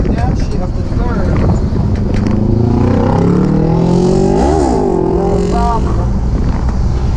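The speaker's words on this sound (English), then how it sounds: "Now you can downshift to third" An M-37 Power Wagon's engine drops from fourth into third gear on a slow back road, its loud low rumble swelling and revving through the shift under steady wind and someone talking over it.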